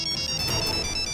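A phone ringtone plays loudly and continuously, a bright electronic melody that repeats throughout.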